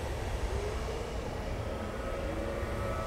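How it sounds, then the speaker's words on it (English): A steady, low rumbling drone with a faint wheezing, mechanical undertone, continuous and unchanging throughout: a sickening breathing air-filter bag in Dead Space 2. "that's the sound of the sprawl breathing bag getting sicker and sicker"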